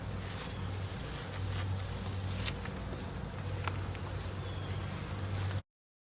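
Honey bees hum around an opened, propolis-sealed hive as frames are shaken, a steady close buzz with a few faint taps and knocks over it, ending in abrupt silence.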